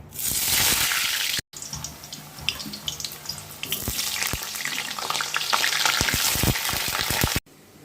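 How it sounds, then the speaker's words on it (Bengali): Potatoes hit hot oil in a wok with a loud, rushing hiss, then a dense crackling sizzle with sharp pops and clatters. Two brief breaks cut the sound, and no one talks. "এদিকে কড়াইয়ে তেল বসিয়ে দিয়েছি। ফার্স্টে আমি আলুগুলোকে ভেজে নেব।"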